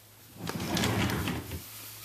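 A nursery dresser drawer slides open with a single smooth wooden rumble lasting about a second, close and clear in a quiet room.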